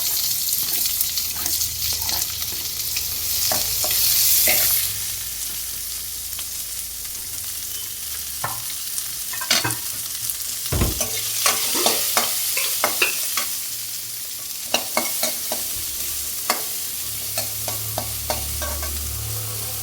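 Onion, green chilli and curry leaves sizzle and fry in a hot pan for banana stem and lentil poriyal, with steady broadband crackle, a loud hiss surge early on, and scattered spoon scrapes and clinks throughout.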